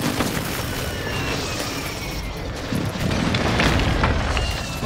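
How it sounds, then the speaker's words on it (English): An airstrike in the Warzone Mobile video game rumbles as a loud, sustained booming roar, with heavy low explosions rolling continuously and swelling toward the end. "Friendly airstrike in the AO."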